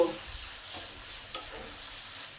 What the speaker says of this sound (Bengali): আলু বেগুন মাখাটাকে ভালো করে এই মশলার সঙ্গে নেড়ে নেব